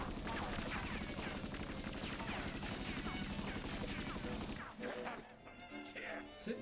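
Rapid gunfire rattles through a One Piece anime episode, a dense, continuous burst of shots that cuts off abruptly, followed by quieter clatter and faint sounds.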